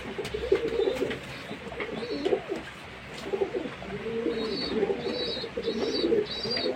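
Pigeons cooing steadily close by, repeated low throaty coos overlapping one another, with a few faint higher chirps mixed in.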